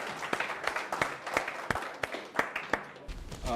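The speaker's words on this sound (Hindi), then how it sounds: "Can we have a big round of applause for Parvez and Tajammul, भरपूर तालियां।" An audience claps for two musicians playing Kashmiri rabab at an Eid programme, a thinner spread of distinct hand claps in an uneven rhythm that stays close and moderately loud.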